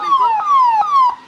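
An ambulance siren wails in a loud, close, repeating falling tone, each sweep lasting about 0.4 seconds, heard alone with no talk.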